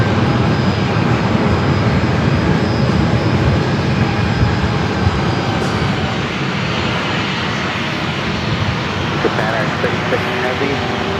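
Boeing 787-9 Dreamliner arriving from Tokyo Narita at San Diego airport, a loud continuous jet engine roar and rumble that stays steady and close throughout, with speech blending in.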